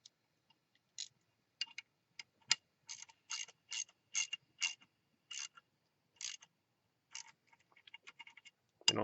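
A hand ratchet tightens brass gas orifices on a furnace during a natural gas to propane conversion, giving quick bursts of close, dry clicking in short runs separated by pauses.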